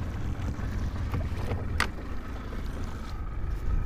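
A boat trolling across windy, choppy water while crappie fishing, with a steady low engine rumble, continuous wind buffeting the microphone and brief splashes, no talking.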